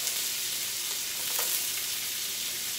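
Bacon frying in a pan with onions just tossed in, giving a steady, close hiss of sizzling fat throughout, with a brief crackling swell near the middle and no voices.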